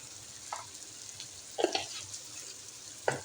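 Half a teaspoon each of ginger powder and garlic powder frying in a pan: a soft steady sizzle under a few scraping stirs of a spoon, three distinct strokes standing out.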